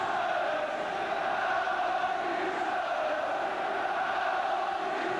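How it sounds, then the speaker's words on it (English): A football crowd roaring in the stands at a Spurs v Swindon Town FA Cup replay, a sustained distant swelling roar filling the whole stretch without breaks. "that's encouraged the crowd to go a bit"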